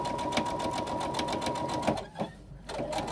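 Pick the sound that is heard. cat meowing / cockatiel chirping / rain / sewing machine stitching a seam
sewing machine stitching a seam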